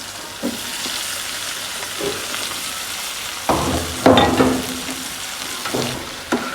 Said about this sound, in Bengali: সাথে টমেটো কুচিয়ে দিয়ে দিচ্ছি।